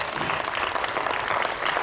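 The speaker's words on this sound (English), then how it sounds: "let's give a round of applause" Audience applause fills a hall for a volunteer called onto the stage at a Google for Entrepreneurs Week event in Sri Lanka, a dense, steady wash of many hands clapping close by without a break.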